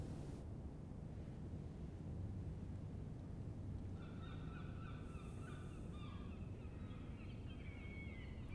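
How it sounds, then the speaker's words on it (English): Seagulls squawking amid wind and surf, a string of harsh repeated calls starting midway and continuing over steady gusty background noise. "Tired of listening to seagulls squawk."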